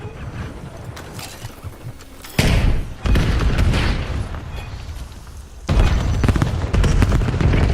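Grenades explode in a video game: several heavy, booming blasts land in quick succession and then again a few seconds later, each loud and close with a rumbling decay over a busy combat background.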